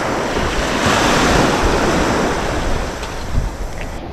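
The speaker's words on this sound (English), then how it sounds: "It's these waves though." Ocean surf breaks and washes continuously along the shore at North Clearwater Beach, Florida, a loud steady roar of moderate waves with wind buffeting the microphone throughout.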